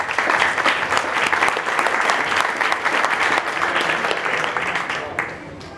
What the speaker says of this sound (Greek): αξίζει το πρώτο σας χειροκρότημα